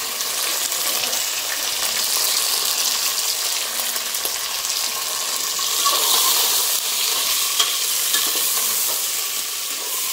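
Chicken pieces sizzle and fry in hot oil with browned onions, a steady loud crackle with scraping stir strokes and occasional clinks of the spoon, no voices.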